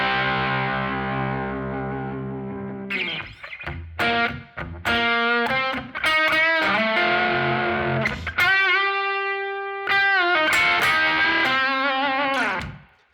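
Distorted blues rock electric guitar lick in C, played solo with effects: a sustained low chord vamp, then punchy bent notes and short phrases with chorus and echo, loud and close with no talking.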